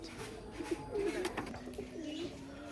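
Domestic pigeons coo softly and repeatedly in a loft during the rainy season, low rolling calls rising and falling in a steady, near rhythm with no voices.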